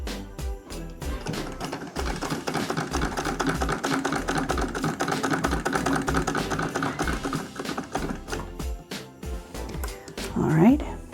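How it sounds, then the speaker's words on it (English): A sewing machine runs steadily, stitching a seam on a homemade rice bag with a fast, even mechanical ticking. A voice is heard over it, and the machine stops near the end. "I am going to stitch a second time right over those first stitches to strengthen that seam"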